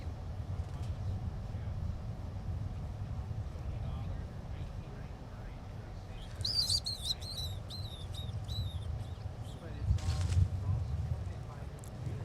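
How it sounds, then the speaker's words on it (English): A ground squirrel at an airport gives a quick series of high, sharp chirps, about half a dozen in a row and moderately close, over a low rumbling background hum. "So that chirping sound, that's Gerald."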